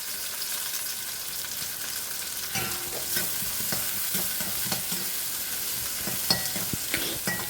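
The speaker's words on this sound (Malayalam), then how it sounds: "ഇനി നമുക്കൊന്ന് ഇളക്കാം." Beans frying with onions and curry leaves in a pan make a steady sizzle, joined partway through by a spoon stirring and scraping the pan with soft clicks, close up and without speech.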